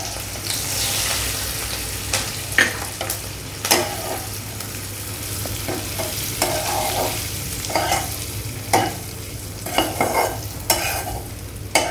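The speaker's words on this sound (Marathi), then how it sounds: "आता आपण खोबरं घालू।" Grated coconut roasting with onion in a pan over low heat for a Vidarbha-style brinjal-potato curry, a steady close sizzle broken by repeated sharp scrapes and clinks of a stirring spoon.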